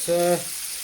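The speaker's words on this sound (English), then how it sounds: "The meatballs are on, sizzling away there." Soft turkey meatballs sizzle in a hot frying pan with a steady hiss, briefly topped near the start by a short tonal hum.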